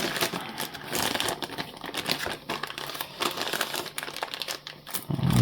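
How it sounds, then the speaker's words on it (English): A resealable plastic bag crinkles and rustles close up while being handled during the unboxing of a marine chart plotter kit, in irregular bursts of crackling. "Nice little resealable bag."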